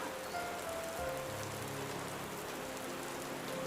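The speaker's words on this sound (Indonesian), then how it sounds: "hujan nih" Rain falls steadily outdoors near fields, rice paddies and a railway track, making a dense, even hiss of drops that stays constant throughout.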